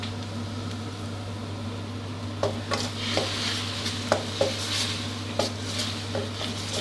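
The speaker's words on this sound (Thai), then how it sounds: "ผัดให้น้ำตาลละลายเข้ากับพริกแกงดีเลยครับ" Thai curry paste with sugar stir-fried in a pan over medium heat, with a soft sizzle under a steady low hum and scattered scraping taps of a spatula against the pan, close and without talk.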